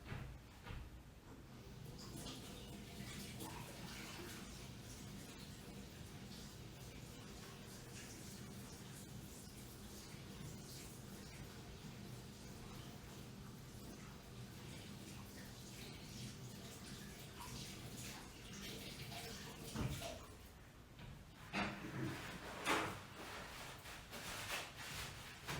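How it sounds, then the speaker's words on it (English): Hands are washed under a running tap, giving a soft, steady stream of water throughout with a few louder splashes and knocks near the end, faint and somewhat distant. "Gotta wash my hands again."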